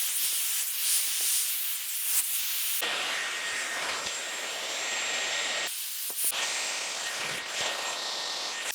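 A Dyson Airwrap blows a steady, loud airy hiss while brushing and drying hair. It switches speed partway through, dropping in low rumble and then returning, with no talking.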